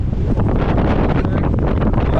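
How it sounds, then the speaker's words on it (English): Strong, cold wind at Lake Michigan's Muskegon State Park buffeting the microphone in loud, rumbling gusts, continuous throughout the short clip. "But it's windy."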